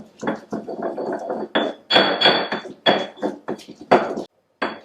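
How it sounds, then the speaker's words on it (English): Salt and garlic worked into a creamy paste with a mortar and pestle, heard as a close, steady run of short grinding and knocking strokes with brief pauses between them. "you're grinding more than pounding because you just want to turn that salt and garlic into a creamy paste"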